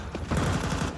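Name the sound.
FAMAS gunfire in Counter-Strike video game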